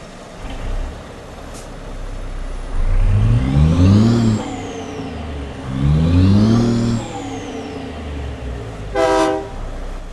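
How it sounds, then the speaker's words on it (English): A Cummins Big Cam diesel truck engine in a logging truck driving game rises in two strong revving pulls, each climbing in pitch and falling away, with a brief air hiss between them and a short horn blast near the end. "the big cam Cummins engine sound set that was just released, and I'll have you listen to it now"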